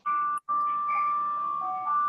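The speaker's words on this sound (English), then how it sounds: "That's the ice cream truck selling whatever." An ice cream truck plays a steady, tinny electronic tune from the street, a loud sustained jingle with one brief break, heard outdoors in the background.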